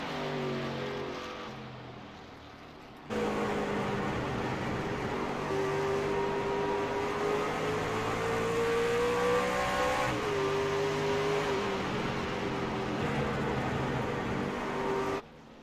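A virtual racing truck engine in a racing video game on a time lap drones steadily with a buzzy tone, rising in pitch for a stretch as it accelerates, then settling, continuous and moderately loud until it cuts off abruptly.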